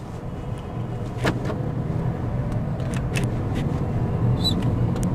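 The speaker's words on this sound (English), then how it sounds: "I'll take this car on a spin now" Steady low rumble of a Mercedes-Benz CLA 200 driving, the engine and road noise holding an even drone from inside the cabin, with a few faint clicks.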